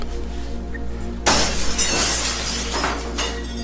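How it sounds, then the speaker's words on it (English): Glass shatters in a video game as a locked door's pane is broken: a sudden loud crash bursts out of a steady hum, then tinkling shards scatter and settle for a couple of seconds, with no voices. "You decided to just break the glass anyway."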